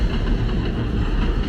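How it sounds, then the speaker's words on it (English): F subway train rolling past on the elevated tracks along McDonald Avenue in Borough Park, Brooklyn, a loud, steady, close rumble with continuous low-end roar and rattling wheels throughout, no talking. "F train."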